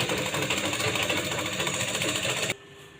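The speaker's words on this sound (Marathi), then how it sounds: "शिलाई मार्जिन ठेवून शिलाई मारून घ्यायची आहे" A sewing machine stitches a piping strip onto a blouse, a fast steady mechanical whirr running for about two and a half seconds before stopping abruptly and leaving a quiet hum.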